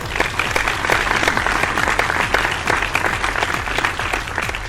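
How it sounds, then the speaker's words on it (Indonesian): Seminar audience applauding a minister, a dense burst of many hands clapping at steady volume throughout, with no voices over it. "Tepuk tangan untuk Bapak Menteri"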